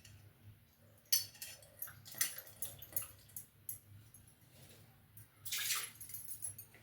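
Tamarind being rinsed by hand in water, with soft splashes, drips and light clinks of a vessel coming in irregular bursts, plus one longer burst of pouring or sloshing near the end; close and fairly quiet.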